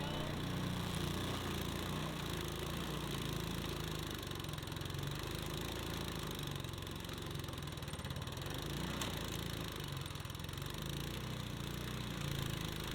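The engine of a trencher runs steadily as its cutting wheel is lowered, a continuous mid-pitched mechanical drone that stays even and fairly loud throughout with no pauses.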